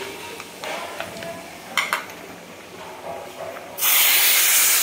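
Kashmiri red chili powder hits hot oil in a tempering pan for spinach bhaji, with soft clinks and scrapes, then a sudden loud, steady sizzling hiss that fills the last second.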